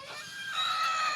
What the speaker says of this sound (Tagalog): Yan yung barako natin, tinatali natin kasi nag-aaway sila ng pabo.